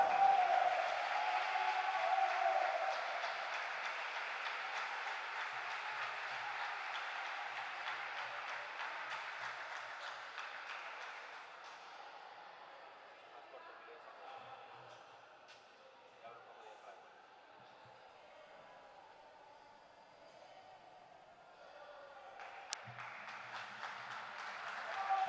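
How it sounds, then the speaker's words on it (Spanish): At the 2018 Spanish boys' under-14 championship final, a crowd applauds the winning Santo Domingo team. Dense clapping fills the first half, thins out, then swells again near the end, with an announcer's voice heard over it. "Fuertísimo aplauso para este equipazo"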